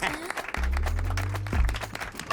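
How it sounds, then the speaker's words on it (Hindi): Crowd applauding a woman in a dubbed South Indian action film, a burst of clapping with a deep musical swell underneath, punctuated by a heavy low hit midway, with people talking over it. "इस लेडी बाहुबली के लिए तालियां बजाओ"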